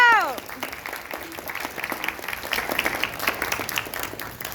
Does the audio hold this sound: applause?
yes